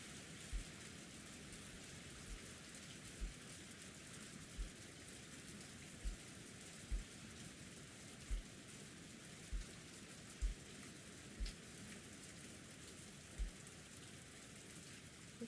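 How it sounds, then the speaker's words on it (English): Steady rain in the Umineko visual novel game, a soft continuous hiss with faint low periodic thumps, quiet and even throughout with no voices. "The rain sound effect is so pleasing."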